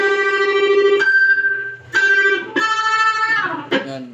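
Distorted electric guitar played through the octo tremolo of a Joyo Vision dual-modulation pedal: several loud chords are struck in turn, each ringing with a rippling, pulsing modulation. Nobody speaks.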